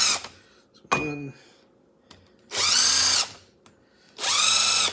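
Screwdriver popping past the small ridge while opening stud holes in a winter tire, heard as two sharp mechanical bursts separated by quiet pauses, each with a rising whir, near and loud, with faint clicks between.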